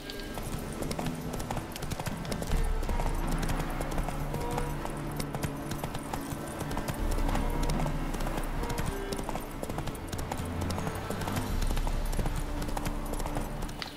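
Horse hooves galloping in the video game The Witcher 3, a rapid, continuous clip-clop rhythm that stays loud and close over a dense bed of game music and ambience, with no speech.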